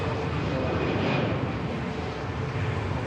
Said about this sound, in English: A220 about to roll past Air France.